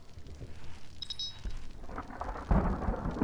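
Thunderstorm in the video game Stranded: Alien Dawn, a short stretch of rain hiss and low rumbling thunder that swells louder in the last second, with no voices.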